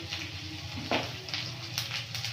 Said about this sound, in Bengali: আর টমেটো দিয়ে মশলাটা ভালো করে কষে নেব